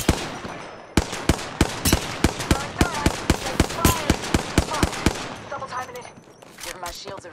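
Rapid gunfire in the Apex Legends video game, a burst of sharp, loud shots in quick succession for several seconds, then scattered fainter shots and game effects trailing off.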